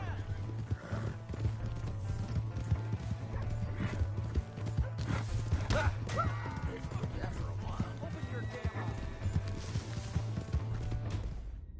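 Rapid hoofbeats of a galloping horse in a video game clatter continuously, with a whinny and voices shouting over the top.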